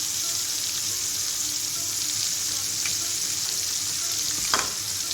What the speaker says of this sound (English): to stir fry the chili and curry leaves